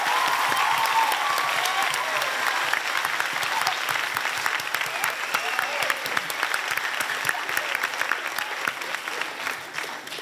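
At a school excellence awards evening, an audience bursts into sustained applause, a dense and loud clapping of many hands that holds steady for about ten seconds and eases slightly toward the end.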